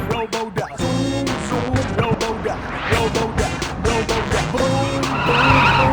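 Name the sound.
car skidding without braking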